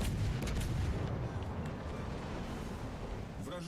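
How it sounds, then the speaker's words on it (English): Airstrike explosions rumbling in a World of Warships: Legends naval battle, a dense, sustained low boom with crackling and wind-like noise over several seconds, fairly loud and continuous. "something's all the way behind that island trying to drop airstrikes on the objective"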